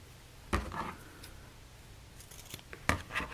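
Scissors cutting fabric pieces for sewing, a few faint close snips and rustles separated by pauses, quiet with no talking.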